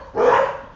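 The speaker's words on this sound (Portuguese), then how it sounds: "os cachorros quiseram orar junto, fazer barulho junto" A single sharp dog bark rings out nearby, loud and brief, with a slight trailing tail after the main burst.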